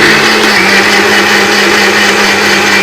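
A kitchen mixer grinds vetiver root into a fine paste with a loud, steady motor whine and no break. No voices are heard over it.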